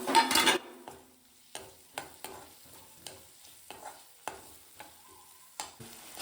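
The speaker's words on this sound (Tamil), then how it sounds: "வதக்கணும்" Green chilli and tomato sautéing in a pan, a quiet sizzle under a burst of loud scraping at the start, then a spoon knocking and stirring at irregular intervals, close up.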